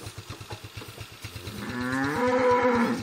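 A cow moos loudly and close by on a dirt rally route, one long drawn-out low call rising over the rhythmic putter of an idling motorcycle engine.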